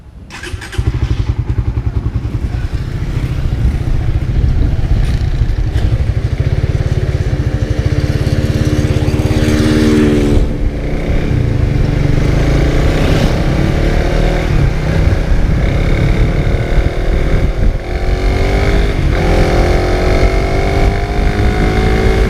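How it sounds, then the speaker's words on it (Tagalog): Honda Raider 150 Fi motorcycle engine cranks and catches, then idles steadily with occasional throttle blips that rise in pitch, loud and close, no talking throughout. "Start na natin ang motor."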